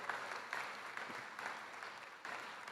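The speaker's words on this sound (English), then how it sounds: "So let's give them a big round of applause." Applause for graduates at a university convocation: a large audience clapping in a dense, continuous wash, moderately loud and steady throughout.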